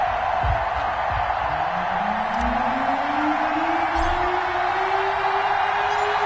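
Stadium crowd noise from an NFL football video game, a steady dense roar from a big arena crowd with a rising tone sweeping across it and a few brief thuds, all continuous and fairly loud.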